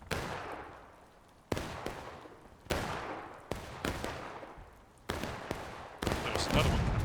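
An artillery battery fires on a Civil War battlefield in War of Rights, a series of sharp booming cannon shots at uneven intervals, each with a long echoing decay rolling across open ground.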